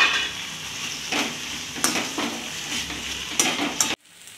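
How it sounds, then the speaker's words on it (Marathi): Potatoes being stirred and fried in an oil tempering with turmeric for a Maharashtrian potato bhaji, a steady sizzle with several sharp spoon scrapes and clinks against the pan, ending abruptly. "हळद परतून झालं की आपल्याला जो बटाटा घेतला होता आपण तो घालायचा आहे।"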